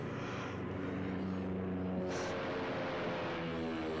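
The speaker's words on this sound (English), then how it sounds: "planes flying really close to a building in New York" Biplanes fly close to a New York skyscraper in the 1933 King Kong film, a steady droning propeller engine roar that holds level throughout with no speech.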